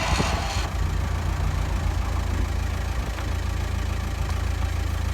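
A 2006 VW Passat B6 engine idles steadily nearby, a constant low rumble with a faint mechanical tick, running alone with no talk.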